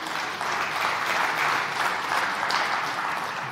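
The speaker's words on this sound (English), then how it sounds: "I know your applause are for my wife." A church congregation applauds, a steady wash of clapping that holds evenly for a few seconds.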